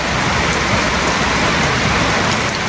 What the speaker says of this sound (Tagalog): Super lakas ang ulan.